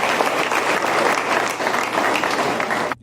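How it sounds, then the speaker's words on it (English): Dense, continuous applause from a crowd fills the space, steady and loud throughout with no clear individual claps standing out, then cuts off abruptly at the end. "he stuck the mic in his armpit so he could clap right there"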